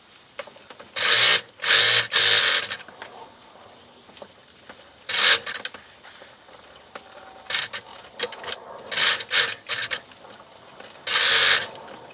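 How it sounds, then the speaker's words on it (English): A sewing machine stitches sleeve seams on a robe in short bursts of rapid whirring and rattling. The runs start and stop with pauses between, close and loud. "sew the seam with a 1/2 inch seam allowance, backstitch when you start and when you stop"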